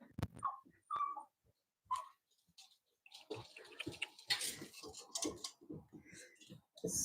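Cavalier dogs whimper close by in short, soft high cries, with a few sharper yips mixed in, while a person talks gently over them.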